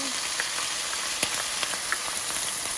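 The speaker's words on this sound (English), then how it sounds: "I'm just going to start with some olive oil, and we're going to toast up our veggies" Onions frying in olive oil in a pan for spaghetti, giving a steady close sizzle with light crackles and a few soft pops, heard on its own with no voices.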